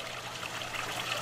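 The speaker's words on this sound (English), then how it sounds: "This small fountain, does the water still look the same? Does it still make the same noise when you view it in black and white?" Water trickling steadily from a small fountain in Bicentennial Park, Ashbury, a soft continuous splashing and dribbling close by, with no voices over it.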